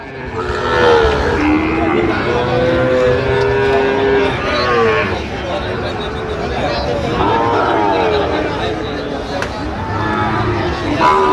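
Sahiwal cattle and bulls at a busy livestock market in Chandpur low, drawn-out moos repeating over steady crowd noise, with people talking nearby throughout.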